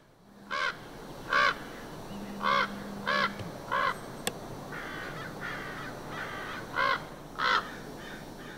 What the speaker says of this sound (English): And off to taunt the crows.